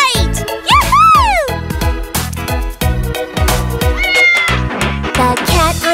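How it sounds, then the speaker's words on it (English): A cartoon cat meows repeatedly in a bright, exaggerated voice, a quick run of rising and falling calls set over a bouncy children's song backing with jingles. "The cat on the bus goes meow, meow, meow."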